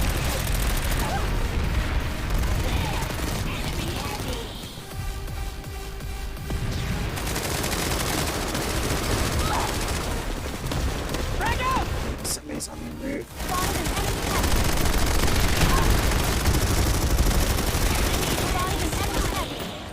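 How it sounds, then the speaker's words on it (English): Gunfire in the video game PlanetSide 2: sustained bursts of automatic weapon fire and scattered booms throughout a chaotic battle, loud and continuous with a brief lull in the middle, mixed with other game effects. "It's like gunfire coming from that direction"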